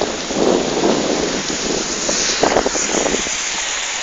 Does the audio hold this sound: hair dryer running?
no